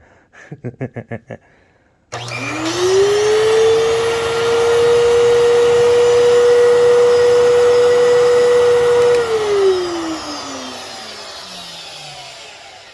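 A Fantom Fury vacuum cleaner switches on after a few short beeps, its motor whining up to a loud, steady roar, holding, then winding down and fading as it shuts off; no talking.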